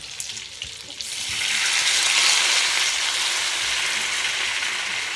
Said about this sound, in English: you're gonna take your enough water to deglaze that pan